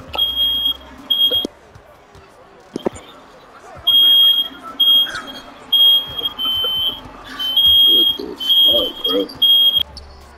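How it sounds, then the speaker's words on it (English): Smoke alarm beeping indoors at a basketball combine game: loud piercing tones in repeated bursts of varying length, over gym crowd noise and an announcer's voice. "that was my alarm"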